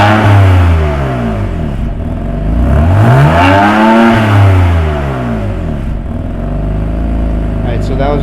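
A car fitted with an M Performance exhaust, its valves closed, revs loudly and close by. The engine climbs and falls in two or three sweeping revs over a steady idle drone, and no one speaks.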